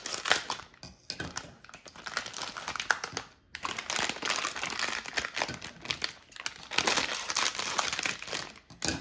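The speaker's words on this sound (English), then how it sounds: "I'm going to remove them from their packaging." Plastic packaging crinkles and crackles as two Trader Joe's chocolate lava cakes are taken out of it, a dense, continuous rustling close by with brief pauses.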